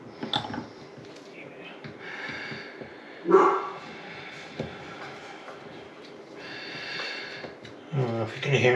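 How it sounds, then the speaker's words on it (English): A dog barks indoors in a few short bursts, some loud and close, others fainter, during repairs on a dripping faucet, with a person talking throughout. "my dog is barking"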